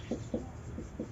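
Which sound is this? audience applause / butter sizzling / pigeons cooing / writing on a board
writing on a board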